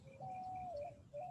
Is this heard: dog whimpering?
no